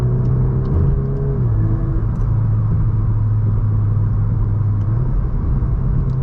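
An MK8 Golf R driving with a steady engine drone and rumble, pitch shifting briefly as it changes speed, heard from inside the car with no talk.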